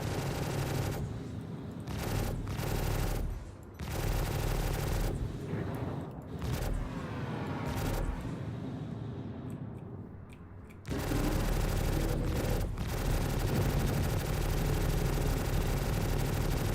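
Sustained bursts of gunfire from a player's ship guns in a space combat video game, dense rapid shots broken by brief gaps over a constant mechanical drone, heard alone at a moderate distance.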